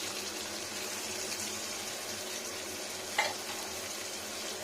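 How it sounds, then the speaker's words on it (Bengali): Ginger paste, onion and garlic fry in hot oil with a steady, close sizzle that runs throughout, broken by a brief clink of a utensil partway through. "আদা পেঁয়াজ রসুন ফ্রাই ফ্রাই ফ্রাই"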